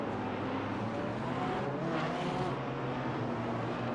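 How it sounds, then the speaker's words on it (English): Two GT4 race cars passing in a racing video game at Long Beach, a steady dense engine roar that swells briefly as they go by, with no voices. "the two GT4s now passing Lee Bowden"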